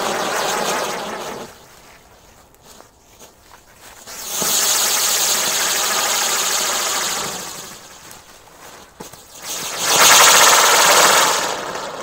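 A big Diwali firecracker spins as it burns, letting out a loud, harsh hissing roar in two long bursts with a quieter crackling lull between them.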